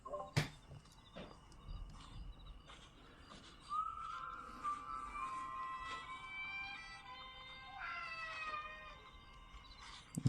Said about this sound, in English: Apparently my cat wants to say hello.